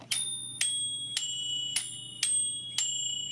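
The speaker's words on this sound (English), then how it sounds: "It doesn't play very well, but it has 3 bells" Three bells fitted to a rare early-1800s harmonica ring out in six evenly spaced, bright metallic strikes, each clear and close with a lingering shimmer that fades before the next.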